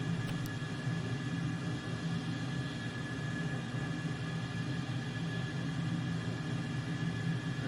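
A steady, broadband jet roar from an F-14 Tomcat climbing away after a carrier takeoff in Microsoft Flight Simulator, constant and unbroken with no voices.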